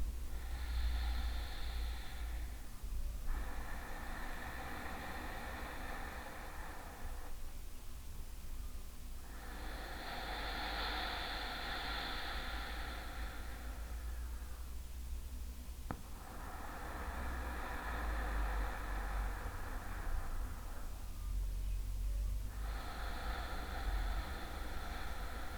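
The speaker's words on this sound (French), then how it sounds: "le son de l'Ujjayi qui vous guide" Slow ujjayi breaths during a pranayama session, each long hissing inhale and exhale lasting a few seconds, close and steady over a constant low background hum, with no talking.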